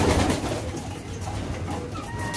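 Racing pigeons coo softly amid steady outdoor background noise, the low murmuring calls faint and continuous throughout the short stretch.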